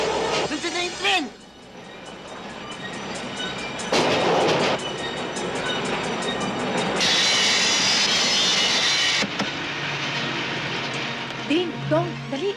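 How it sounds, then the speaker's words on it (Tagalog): A train rumbles past with a loud, continuous roar and a harsh hissing swell midway, while voices talk and shout over it in a film scene. "Nandiyan na yung tren!"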